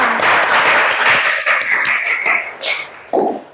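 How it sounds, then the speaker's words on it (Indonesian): Classroom applause for the first presentation group in an Islamic education class, a short burst of clapping that fades with a couple of louder isolated claps near the end. "tepuk tangan untuk kelompok pertama"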